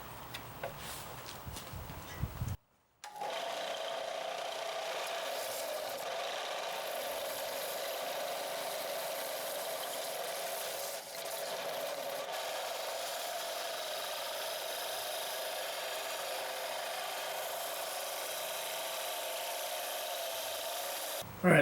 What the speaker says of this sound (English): I'm going to use my belt sander to clean up the profile of the handle.